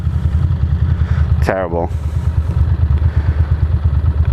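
A Ducati Monster motorcycle engine rumbles steadily and close throughout as the clutch is let out to pull away, with a brief spoken word cutting in partway through.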